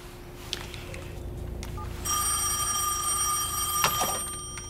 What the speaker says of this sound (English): Hello? It's a cell phone.